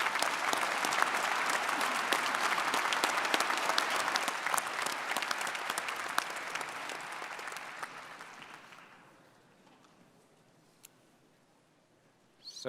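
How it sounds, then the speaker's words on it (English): Large crowd applauding doctoral degree recipients at a fall university commencement ceremony, a full, sustained wash of clapping that tapers off around nine seconds into near silence. "let's give another round of applause to the doctoral degree recipients"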